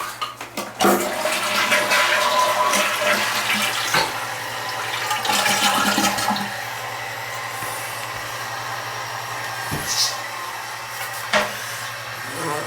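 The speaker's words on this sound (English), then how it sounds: "I wiped it good and I flushed it a bunch of times" A toilet flushing repeatedly during a leak repair, with steady rushing water filling most of the stretch, several sharp knocks and clunks along the way, and the water noise easing and returning.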